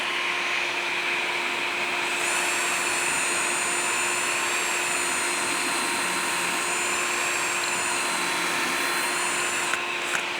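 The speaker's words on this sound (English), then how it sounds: "the vacuum system on this really works out great" Shop vacuum suction running steadily on a pocket hole jig workstation, a loud continuous whine with a steady hum and no talking.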